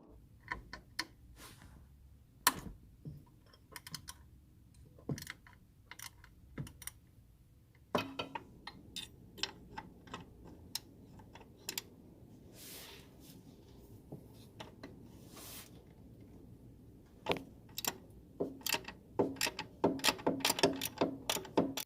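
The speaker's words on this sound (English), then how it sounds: "break loose the fasteners that are on these three idler pulleys" A 1/2 inch ratchet breaking loose idler pulley fasteners on an Infiniti G35 / Nissan 350Z VQ35 engine, with quiet clicking pawl ratchets in irregular bursts, sharp knocks and metal handling between them, close and alone.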